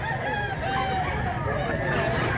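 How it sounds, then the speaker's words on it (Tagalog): A bullstag rooster crows near and loud over a steady noisy background, with a long drawn-out call running across the stretch. "Ang gandang manok"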